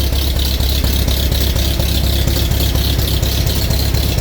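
A 1941 Farmall M tractor engine runs steadily just after a cold start at minus 8 degrees, with choke on: a loud, continuous low idle with a fast rhythmic chug and a metallic rattle, close by, with no talk.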